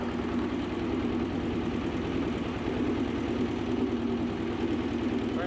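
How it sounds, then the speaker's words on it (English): A Belarus 250AS tractor engine runs steadily in low gear, a close, even, throbbing diesel rumble with a constant rhythmic pulse and no pauses. "We're in low gear here just because I don't want to knock you guys off the back of the tractor."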